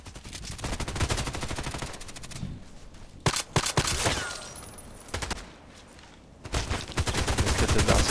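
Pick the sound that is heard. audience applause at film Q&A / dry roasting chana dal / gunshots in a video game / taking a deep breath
gunshots in a video game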